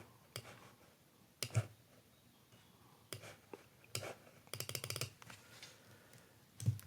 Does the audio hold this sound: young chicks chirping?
no